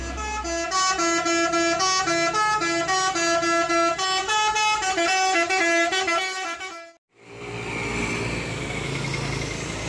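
Musical shaker air horn on a Sinar Jaya limited-edition bus at a roadside in Klampok, playing a loud melodic tune of repeated honking notes for about seven seconds, then a brief silence followed by rushing road noise of the passing vehicle.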